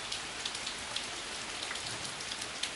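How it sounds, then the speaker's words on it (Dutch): Steady rain falling outdoors in bad weather, a dense hiss of drops with scattered sharper patters, moderate level and continuous, no voices. "Het regent."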